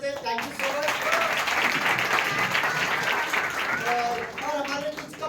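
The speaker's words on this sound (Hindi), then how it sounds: "स्पेशली हमारे बच्चे लोग के लिए हम लोग यही ताली बजाते हैं" An audience applauds at a church Christmas program, honoring the children who helped; steady clapping fills the whole stretch, with a voice speaking over it near the end.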